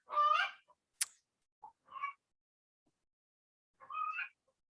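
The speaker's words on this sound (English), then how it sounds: "Are y'all hearing the chicken as loudly as I am?" Fowl outside give a few sharp, honking calls in short separate bursts with quiet gaps between, fairly close and clear with no talk over them.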